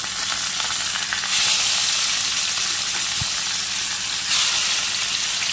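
Loud, steady sizzling of bata fish frying in hot oil, with a crackling hiss that swells at moments and a brief soft knock.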